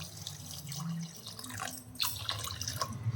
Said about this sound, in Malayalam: ഇതിൻ്റെ കൂടെ നമ്മൾ ഒരു ഒന്നേകാൽ കപ്പ് വെള്ളം ചേർക്കുന്നു കേട്ടോ